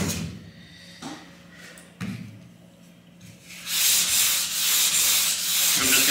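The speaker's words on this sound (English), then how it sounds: "I'm just gonna block the epoxy" Epoxy primer is block sanded on a 1970 Chevelle body: a few hollow taps and thumps come first, then a loud, steady rasping scrub runs close up to the end.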